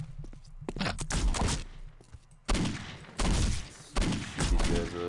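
Gunfire in the video game Postal 2: several bursts of rapid shots in uneven clusters, loud and close, with thuds between them and no talking.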